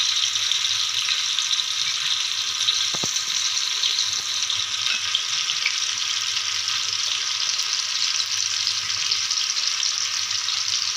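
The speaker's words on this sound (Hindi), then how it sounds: "एक साइड पे हमने चावल बॉईल होने के लिए रख देने हैं।" Soaked rice going into a pot of boiling water for biryani, a steady close hiss of bubbling water with a single brief knock partway through.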